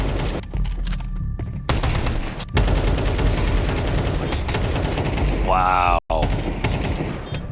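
Rapid bursts of gunfire from pre-firing an angle in a Counter-Strike 2 match at IEM Cologne 2024, loud and sustained across the clip with brief breaks, while a commentator's voice and a short exclamation come through over it.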